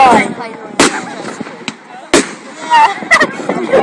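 Fireworks going off at a public firework show in Baldock, several sharp bangs spaced irregularly with crackling tails, heard over excited shouting and chatter from the crowd nearby.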